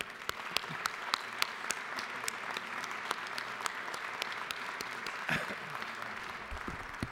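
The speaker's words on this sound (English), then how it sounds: "So give them a hand of applause." Sustained applause fills the Georgia House chamber as a school class is recognized, many hands clapping steadily for several seconds at a moderate distance with a few sharper individual claps standing out.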